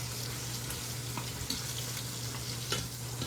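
A ribeye steak and garlic sizzle steadily in a hot pan, a continuous close frying hiss broken by a few faint pops and clicks, with no talking.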